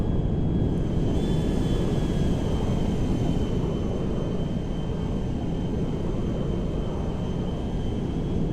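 The engines of an Ilyushin IL-76M jet in a GTA 5 mod roar steadily during a climb, a loud, dense, unbroken rumble with a faint whine on top.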